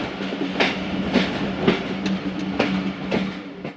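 The Khyber Mail passenger train rolls along the line near Nowshera Junction with a steady rumble. A regular clickety-clack of wheels over rail joints repeats about every half second, close and continuous.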